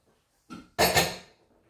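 A spoon working through mushroom risotto with grated pecorino in a cooking pot, giving a short clatter followed by a louder scraping clank against the pot, close and brief, with no talking.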